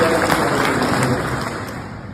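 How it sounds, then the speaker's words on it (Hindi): Audience at a Maru Dewasi community gathering in Bangalore applauding steadily, a dense continuous wash of clapping that holds even throughout without a break, with faint voices mixed underneath. "और आप अपने लिए जोरदार ताली"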